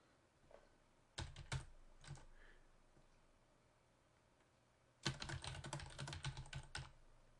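Close computer keyboard typing at a terminal comes in two bursts of rapid keystrokes, a short flurry early on and a longer run near the end, with quiet pauses between.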